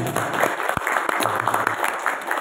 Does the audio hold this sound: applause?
yes